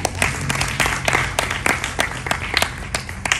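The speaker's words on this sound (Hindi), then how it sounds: "फिलहाल देर मत कीजिए राजीव जी को तालियां देने में" An audience claps for Rajeev ji at a World Hindi Day celebration, with dense, steady applause from many hands and sharper individual claps standing out throughout.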